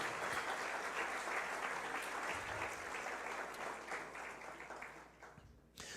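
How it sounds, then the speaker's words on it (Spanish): A church congregation breaks into sustained applause, a dense wash of many hands clapping steadily at a moderate distance before it thins out near the end. "Dale un aplauso al Señor Jesucristo, que Él crezca en nosotros."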